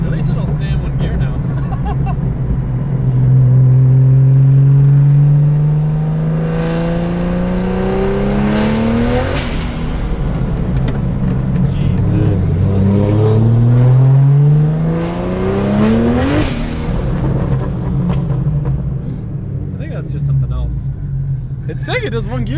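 A Mazda FD RX7 accelerates hard while driving, its loud engine note climbing through two long rising pulls with a brief drop between them, heard from inside the car with some voices underneath.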